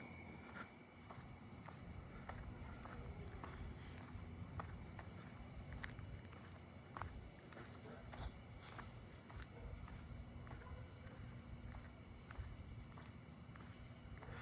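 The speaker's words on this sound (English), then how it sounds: "Pine tree crickets." Steady, dense trilling of pine tree crickets fills the night, a continuous high drone with faint rustles and distant insects underneath.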